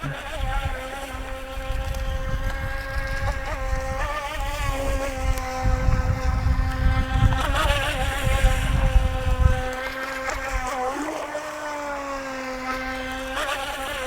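A small UDI U001 Cheerwing Venom RC racing speedboat motor whines steadily on water with a high buzzing drone, shifting pitch as it turns, with wind rumble in the background and no talking.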